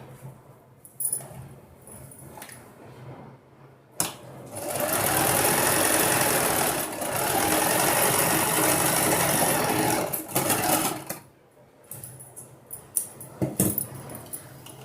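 Sewing machine running in two long bursts of steady, close mechanical whirring while stitching a plain-pleated long maxi gown, with quieter handling and rustling of fabric before, between and after the runs.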